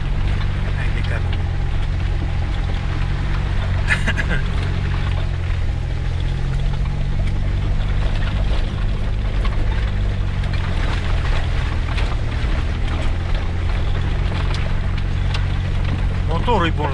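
A Jeep Grand Cherokee's engine drones steadily with a deep, constant rumble while driving off-road, with voices faintly present throughout.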